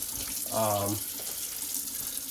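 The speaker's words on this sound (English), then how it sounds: "Instead of dirtying more dishes, I just rinse this little container out." Kitchen tap water runs for about half a second while a small container is rinsed during home cooking; a brief, close gurgling rush with a hollow tone from the vessel, then quiet room sound.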